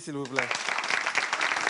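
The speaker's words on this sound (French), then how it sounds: "Allez, on l'applaudit" Studio audience applause for a contestant on a French game show, a dense broadband clatter that swells after a short spoken phrase and continues steadily under the host's voice.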